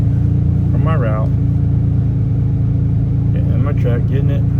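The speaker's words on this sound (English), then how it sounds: "getting in my truck, getting it warming up" A truck engine idling while warming up, a loud, steady low rumble running throughout, with a person talking briefly over it.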